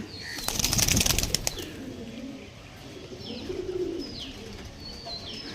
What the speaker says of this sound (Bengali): দেখে নাও পায়রা